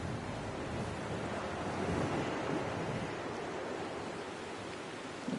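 Steady roar of ocean surf washing onto the shore in Dear Esther, a dense continuous rush with gentle swells and wind, fairly loud and unbroken, no voices.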